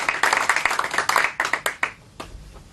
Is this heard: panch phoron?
no